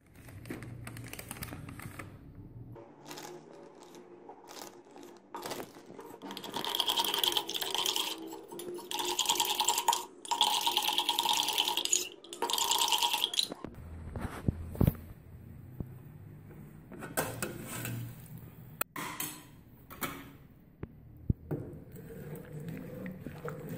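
Cornflour being stirred into water in a glass with a spoon, giving a quick run of light clinks and tapping, louder in the middle stretch, among quieter kitchen handling.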